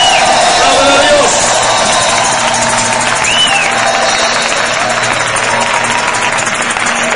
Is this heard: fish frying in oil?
no